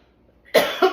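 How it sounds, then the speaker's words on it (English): A woman coughs twice in quick succession, close and fairly loud, after a moment of near silence. "Gosh, I hate this coughing."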